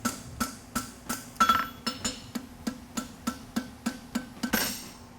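A blacksmith hammering a forge weld on a horseshoe toe grabber, about a dozen sharp ringing metallic strikes at a steady, slightly varying rhythm, close and clear with no talk.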